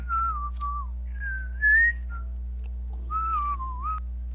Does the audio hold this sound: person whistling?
yes